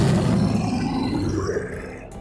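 A Terrorgeist monster from Warhammer: Age of Sigmar lets out a loud, close, guttural roar. It rumbles deep and low, then fades slowly over about two seconds with no talking.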